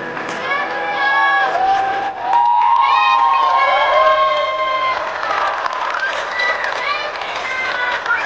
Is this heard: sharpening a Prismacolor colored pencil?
no